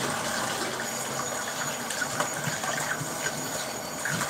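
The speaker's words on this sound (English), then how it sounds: "we're just gonna rinse this knife off." A knife rinsed under running kitchen water, heard as a continuous broad rushing stream at a fairly loud level, close and steady throughout with no speech.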